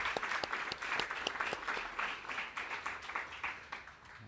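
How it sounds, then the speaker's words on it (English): A crowd at an apartment grand opening press conference applauds with dense, even clapping that holds steady for several seconds before easing slightly. "give her another round of applause"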